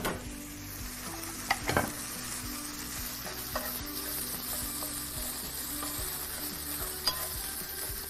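Peppers sizzle steadily in a hot pan, with a few sharp clinks and scrapes of stirring scattered through; nobody speaks.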